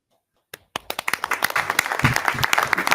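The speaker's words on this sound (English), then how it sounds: "Pause for applause." Applause breaks out at a school board meeting after a presentation, starting as a few scattered claps and quickly swelling into steady, dense clapping from a room full of people.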